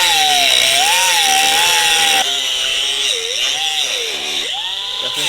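A power tool cuts through the metal body of a Toyota FRS during drivetrain prep. The loud, steady whine rises and dips in pitch as the cutting load changes, with no pauses.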